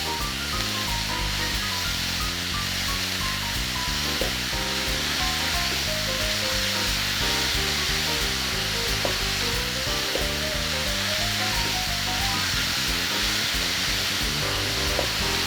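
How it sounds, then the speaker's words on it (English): Spinach sizzles steadily in a hot pan while being stirred, a loud continuous frying hiss with faint scraping strokes throughout. "Once you've added in your spinach, you need to stir consistently so that to ensure it doesn't burn"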